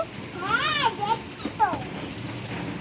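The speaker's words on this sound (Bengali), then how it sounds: "কত জোরে জোরে বৃষ্টি হচ্ছে দেখো" Heavy rain pours steadily during a flood, with a roadside drain full, while a voice rises over it.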